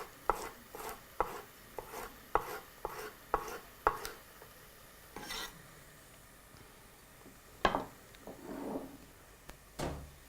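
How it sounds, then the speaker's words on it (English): A sharp knife chops food on a board in a quick run of crisp, evenly spaced knocks. A few slower cuts follow, then a couple of louder single chops, all close and clear with no talk. "working with a sharp knife will always make your life a little better, allows you to also work a little faster and get a nice consistent cut every time"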